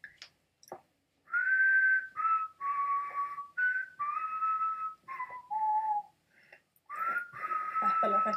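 Someone whistles the melody of a song, clear and close, in separate phrases broken by short pauses.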